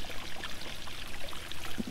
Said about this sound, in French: C'est agréable quand il fait chaud d'entendre le clapotis de l'eau.